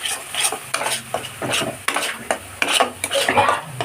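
A spoon scrapes and clinks against a pan while Kashmiri chili powder is stirred into mixed vegetables, repeated close stirring strokes over a soft sizzle of frying.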